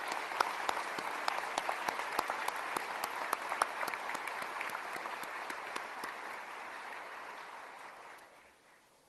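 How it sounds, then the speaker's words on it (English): Sustained applause from an audience at a military change of command ceremony for SOUTHCOM, steady dense clapping for about eight seconds before fading out at the end. "Let's give these families a round of applause."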